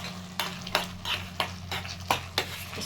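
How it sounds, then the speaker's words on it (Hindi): A spoon or spatula stirs sauce with the chopped green parts of onion in a pan for cabbage Manchurian, giving five or six sharp scraping strokes at a steady rhythm over a low sizzle. "और ग्रीन पार्ट जो काट के रखा था प्याज का, वो डालेंगे। अच्छी तरह से मिक्स कर देंगे।"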